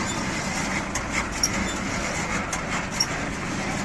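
A Japanese MIDDLE 1000 round baler, making 100 kg bales, runs steadily with a continuous mechanical rumble and hum, a few faint clicks and knocks over the even drone, with no talking.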